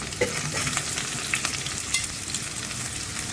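Onion fries in hot oil, giving a continuous crackling sizzle broken by scraping stirs and small spatters, steady and close with no voices.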